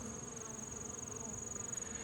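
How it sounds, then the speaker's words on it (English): Bees drone in a steady, close buzzing hum around a hive entrance, many insects together, with a constant high whine above a low murmur and no talking. "Quite a few bees out today, but they're finding their way back into the hive too."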